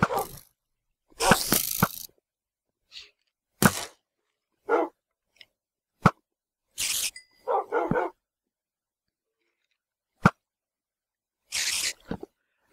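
Dogs bark in the Kingdom of the Sky video game: short, sharp bursts scattered across the stretch, some close together and others isolated, with silence between them and no talk.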